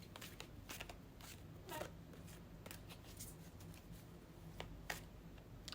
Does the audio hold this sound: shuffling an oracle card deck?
yes